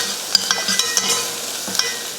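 Mustard seeds and curry leaves fry in hot oil while being stirred, giving a steady crackling sizzle broken by sharp little pops and scraping strokes, close up.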